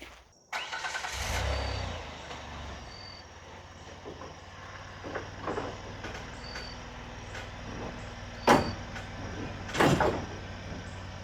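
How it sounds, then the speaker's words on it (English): A car being driven off a homemade trailer outside a shop: a door thuds shut, the engine cranks and settles into a low idle, followed by scattered clunks and a couple of sharp knocks, with crickets faint in the background. "So let me pull that car off of there."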